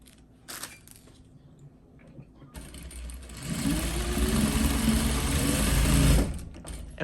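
Sewing machine stitching fabric for a twist headband, a steady whirring run of stitches lasting a few seconds after quiet handling noises, close and fairly soft.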